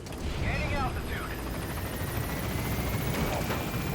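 Pequod helicopter lifting off and gaining altitude in a Metal Gear game: steady, loud rotor roar with a constant whine, close and unbroken, with brief voice fragments early on.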